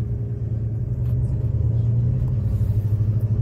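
Rough, low droning rumble from underneath a 2012 Chevrolet Avalanche with a transmission problem, loud and steady with a constant hum throughout and no talking.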